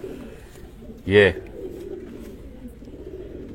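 Large, heavy-bodied pigeons with thick heads give one short, loud coo close by, with someone talking before and after.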